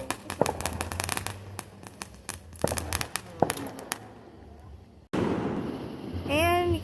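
Fourth of July fireworks go off outdoors as a series of sharp, scattered bangs and crackles, some near and some distant, followed by a louder rumbling stretch.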